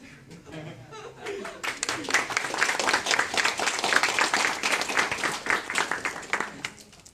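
An audience applauds at a live event, the clapping swelling from a faint start into a dense, sustained burst before tapering off, with a speaking voice and a little laughter mixed in.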